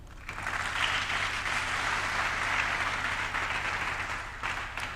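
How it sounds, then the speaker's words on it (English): Steady audience applause at a university lecture on international relations and diplomacy, a dense even wash of clapping held for about five seconds at moderate level with no talk over it. "give me a round of applause"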